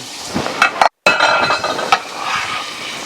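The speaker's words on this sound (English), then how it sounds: "this smoked sausage is browned up pretty good" Smoked sausage browns in a frying pan, a steady close sizzle broken by a few clinks and scrapes of a utensil stirring against the pan, with a brief silent gap partway through.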